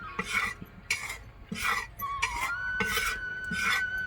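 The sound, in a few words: roasting pearl millet flour in a pan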